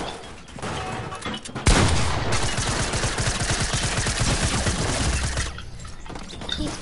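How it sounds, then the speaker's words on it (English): Rapid sustained submachine-gun fire in a video game, a long loud burst of tightly packed shots lasting several seconds before cutting off. "He spams an SMG."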